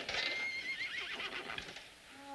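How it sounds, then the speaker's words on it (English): Several horses neigh and whinny at night, high shrill calls overlapping continuously at close range with faint hoof clops beneath, no voices. "Those horses are so noisy tonight."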